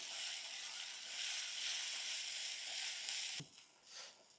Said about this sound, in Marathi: कांदा लसूण मसाला व्यवस्थित परतून घेऊ।